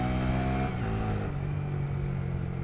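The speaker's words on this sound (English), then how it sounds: "The Grom's loving this cold air. Like, these are steep hills and it's chugging me up them." A Honda Grom motorcycle's small engine drones steadily close by as it labours up steep hills in cold air, its pitch dropping as it chugs under load.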